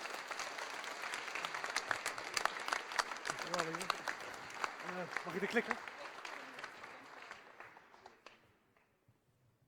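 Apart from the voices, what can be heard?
audience applause for the presenter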